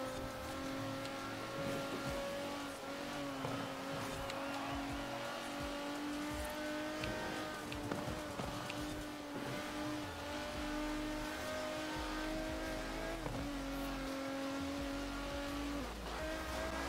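A car drifts through a corner in Forza Horizon 4, its engine droning steadily at high revs with tires squealing and shifting pitch, continuous and fairly faint.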